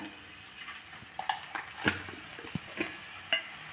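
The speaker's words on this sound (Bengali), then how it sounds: "ধোকলার ওপরে যে ফোড়নটা দেওয়া হবে সেটাই কিন্তু এখন রেডি করে নেওয়া হচ্ছে" A spice tempering for dhokla is stirred in a pan, with scattered sharp clinks of a spoon on metal over a faint, soft sizzle, close and quiet with no talking.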